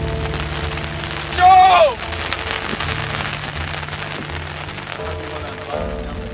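Steady rain falls in Tanzania, a dense close hiss of drops on surfaces throughout, with a brief louder whistling or tonal sweep early on and faint background sounds beneath.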